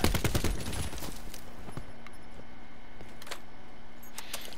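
Rapid gunfire from a gun in Black Ops 4, a burst of sharp shots up front followed by scattered single cracks and clicks over steady game background noise.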